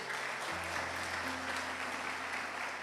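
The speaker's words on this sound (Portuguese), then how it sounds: "Isso, se quer, pode aplaudir ao Senhor." Soft, steady applause from a church congregation, heard at a modest distance, with sustained low keyboard tones holding underneath the clapping.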